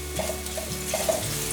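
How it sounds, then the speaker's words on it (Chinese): Carrots stir-frying in a little hot oil in a non-stick pan, a steady close sizzle with soft scraping stirs from a utensil, brief and without talking. "锅内放入少许油，油热了，放入红萝卜，把红萝卜炒软。"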